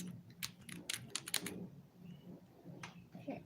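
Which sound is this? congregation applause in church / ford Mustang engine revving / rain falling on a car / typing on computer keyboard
typing on computer keyboard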